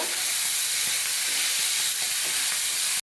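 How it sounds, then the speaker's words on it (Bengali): Prawns frying in a pan for a Bengali prawn and pointed gourd curry, a steady, loud, broad sizzle with hissing steam running unbroken until it stops abruptly. "চিংড়িগুলোকে ভালো করে ভেজে নিব"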